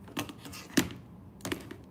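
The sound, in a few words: typing on a computer keyboard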